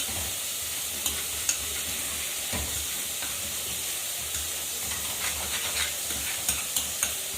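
Egg curry masala with tomato sizzles and fries steadily in a pan, with occasional soft scraping clicks as it is lightly stirred and turned; a continuous close hiss with no talking.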